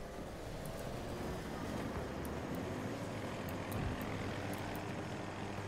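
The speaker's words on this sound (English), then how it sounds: "is a helicopter of ours right here?" A helicopter in a shooter video game gives a steady, loud rotor and engine drone that holds without a break. No talk is heard over it.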